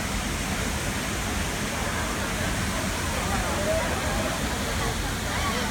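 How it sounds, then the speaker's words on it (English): A waterfall near Kuala Lumpur, reached after crossing several rivers, gives off a steady, dense roar of rushing water that stays even and close for the whole stretch. "We made it to the waterfall."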